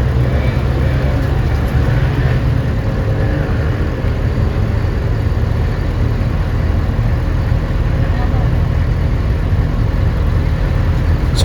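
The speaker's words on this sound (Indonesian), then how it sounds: "Sopir bus kembali menyisir jalanan Ayani ini dengan kecepatan pelan guys, berharap mendapatkan penumpang" A green city bus on the Surabaya–Mojokerto route crawls slowly along Jalan A. Yani, its engine a steady, low, continuous rumble with no break throughout.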